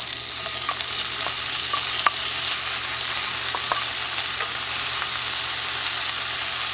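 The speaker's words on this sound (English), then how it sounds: "I'm gonna cook our bacon." Bacon cooking in a pan over medium heat, giving a steady, dense sizzle and crackle close up, with a few faint clicks and pops scattered through the constant hiss.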